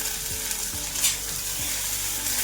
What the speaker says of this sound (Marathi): आता टोमॅटो टाकून घेऊया।